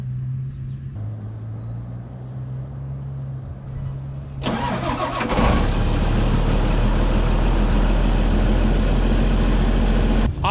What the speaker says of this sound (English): we're gonna let those two tractors warm up